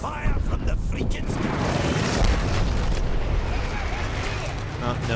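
An artillery strike in the shooter game Dirty Bomb, a continuous barrage of heavy booming explosions and rumbling debris, loud and dense throughout, with a voice talking over the blasts.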